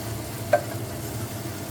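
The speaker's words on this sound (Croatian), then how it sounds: "par minuta ćemo da pržimo ovu papriku s ovim lukom" Peppers and onion frying in a pan make a soft, steady sizzle with one brief clink of a utensil, heard close and fairly quiet.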